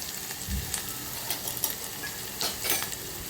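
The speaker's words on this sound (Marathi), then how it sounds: "हे मस्त तेलामध्ये आपण परतून घ्यायचं" Tempering spices sizzle steadily in oil in a pan over low heat with a low, continuous crackle, broken by a few faint clinks and stirs.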